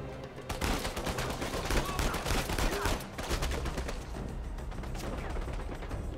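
Rapid bursts of gunfire from a sniper shootout in the video game Uncharted 4 crackle densely and continuously at moderate level, with a voice talking at the start.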